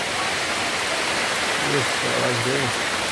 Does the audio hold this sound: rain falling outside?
yes